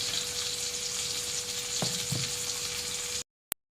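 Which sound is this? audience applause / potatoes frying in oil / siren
potatoes frying in oil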